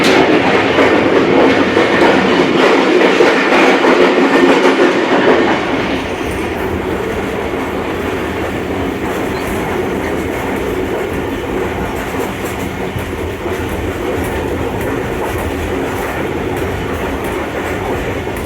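A Tezgam passenger train rolls on rails between Rawalpindi and Gujar Khan with steady, loud rumble and clickety-clack, heard up close from on board; the roar eases slightly after the first few seconds and then holds steady.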